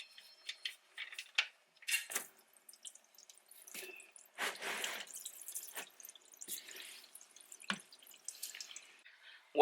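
Engine oil dripping and trickling from the drain plug opening of a 2020 Toyota RAV4 during a 40K-mile service, with irregular close drips and splashes into a pan under quiet surroundings.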